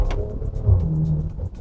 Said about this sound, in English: you'll notice that this is the 8-speed double clutch transmission